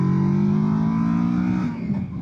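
A 2024 Kawasaki Versys 650 motorcycle engine pulls hard under acceleration, a steady loud drone with a low harmonic whine that holds close and then eases slightly toward the end.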